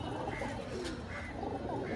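Pigeons coo softly in a shop, several low rolling calls overlapping against a busy indoor background, with faint voices present.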